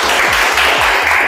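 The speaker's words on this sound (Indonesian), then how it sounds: "Tepuk tangan lagi ya, boleh." Students in a classroom applaud their teacher, a short burst of dense, steady clapping with a low hum running underneath.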